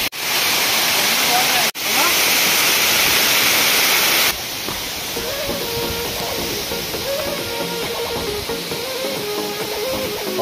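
Waterfall in a jungle near Karamchat dam, a loud, steady broadband rush that fills the first few seconds, then drops to a softer continuous roar beneath people talking and faint music.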